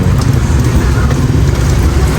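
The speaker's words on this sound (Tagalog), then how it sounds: "Grabe lakas ang ulan." Heavy rain pours down steadily, loud and close, a dense continuous roar of drops with no voices over it.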